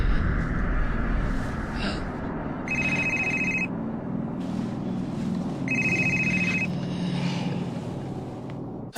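Telephone ringing indoors, two bursts of a bright electronic ring separated by a pause, heard over a low rumbling background.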